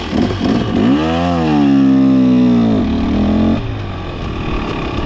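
A 2023 300 motorcycle accelerating away in fourth gear, its engine note climbing in pitch to a loud, sustained drone, holding briefly and then dropping off as the bike pulls away.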